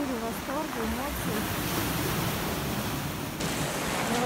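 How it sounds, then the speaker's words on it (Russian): Sea waves break on a beach at Gelendzhik, a loud continuous wash of surf with wind noise, and someone talks briefly at the start. "Сзади меня такие шикарные волны, смотрите."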